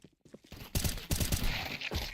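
Sharp gunshots from a competitive shooter game crack in short clustered bursts after a quieter opening, loud and close with light footstep-like scrapes between shots.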